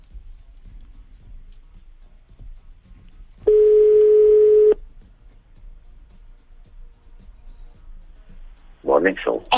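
A steady telephone dial tone played for a radio station's morning-show listener call, a single loud, even tone held for about a second alone before low background and a voice picking up.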